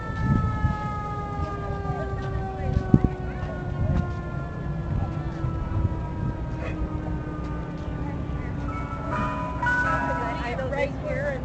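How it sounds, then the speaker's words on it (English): An ice cream truck's tinny melody plays continuously at a vintage Christmas expo, with people talking nearby and traffic rumbling underneath. "Ice cream truck."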